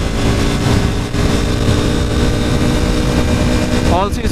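A motorcycle engine is pushed hard in fourth gear on an open-road group ride, a loud continuous drone blended with heavy wind rush and a brief vocal sound near the end.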